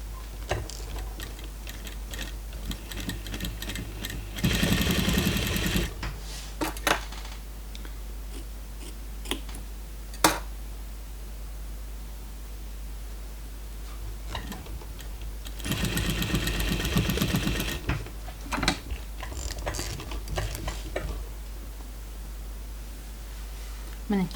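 A sewing machine stitches parquet-style patchwork in two rapid buzzing runs with quieter stretches and clicks between, close, while someone talks throughout.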